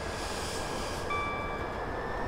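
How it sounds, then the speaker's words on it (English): A Class 59 locomotive on the Medway Valley Line in Train Simulator 2018 rumbles steadily as it begins to move, with a broad, even engine drone and a thin, faint high whine. "This train's about to move."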